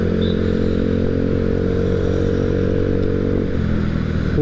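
A motorcycle engine on a ride to Qimatu drones loud and steady close by, with a constant low hum and some rattly clatter throughout and a slight shift in tone near the end.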